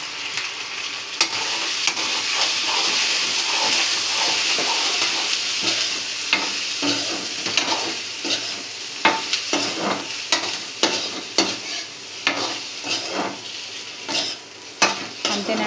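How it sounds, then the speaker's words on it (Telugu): Egg curry masala with chilli powder sizzles in a pan as a spatula stirs and scrapes, the clinks growing quicker and louder toward the end, close by with no talk. "మసాలా మరీ మాడకుండా రెడ్ కలర్ వచ్చే వరకు వేయించుకోవాలండి."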